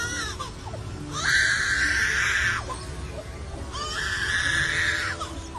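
A mimicking bird, a lyrebird, imitates a baby's cry with two long wailing, scream-like calls, close and loud, separated by a short pause.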